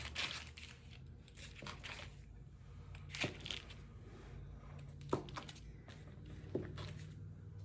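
A knife slices homemade British-style sausage rolls into quarters, giving a few faint, crisp crunches through the pastry at spaced intervals in a quiet kitchen.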